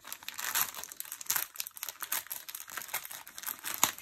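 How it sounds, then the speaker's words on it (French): Unwrapping a packaged contest prize, with close crinkling and crumpling of plastic wrapping in uneven bursts. "je vais essayer d'en déballer une pour vous montrer"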